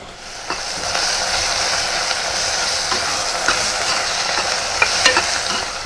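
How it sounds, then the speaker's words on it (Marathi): Ginger-garlic paste, two spoonfuls, stirred into a hot pan for a home-style vegetable curry, giving steady close sizzling with repeated scraping and clinking from the spoon against the pan. "हे बघा, आता 2 चमचे ह्याच्यात मी आलं लसूणची पेस्ट टाकते।"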